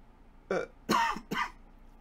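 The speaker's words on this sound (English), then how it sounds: "still gonna be clearing my throat a little bit." Three quick throaty bursts of someone clearing their throat, close and fairly loud, with quiet pauses between.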